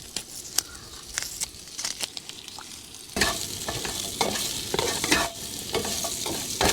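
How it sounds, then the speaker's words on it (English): Onions and peppers seasoned with salt, black pepper and paprika frying at a wilderness campsite, a quiet sizzle with scattered crackles that jumps into a louder, fuller hiss partway through, with sharp scraping stirs on top. "I'm going to try to fry these up a little bit."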